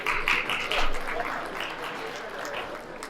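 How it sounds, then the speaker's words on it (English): An audience applauds at a women's recognition event, a short burst of clapping that starts strong and thins out over a few seconds. "Please give a big round of applause."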